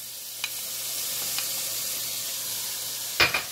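Chopped onion and celery sizzle steadily in a Power XL StirMax multi cooker, a continuous bright hiss of frying, punctuated by a few soft clicks and a sharper clatter near the end.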